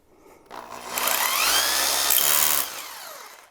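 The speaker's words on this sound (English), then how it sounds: "I've got this small bit I'm going to use to mark the slab." A power drill with a small bit bores into a concrete slab to mark an anchor spot for a pocket door frame. The whine starts abruptly, holds steady and loud for about two seconds, then cuts off.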